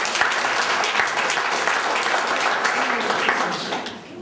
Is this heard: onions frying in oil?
no